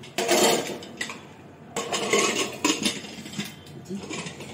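A metal cooking pot is set down for pea dal in a home kitchen, with several sharp clanks and clatters of metal cookware, close by, spread over a few seconds.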